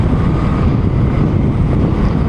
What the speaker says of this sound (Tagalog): Ang lakas sobra ng hangin dito sa sa flyover